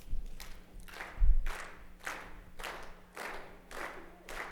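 Audience at an education convention session clapping along to a steady beat, about seven evenly spaced claps in unison, moderately loud with a faint hum beneath.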